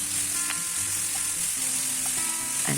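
Eggplant pieces sizzle steadily in a hot pan with salt and turmeric, a continuous bright frying hiss broken by a few soft clinks and scrapes of stirring.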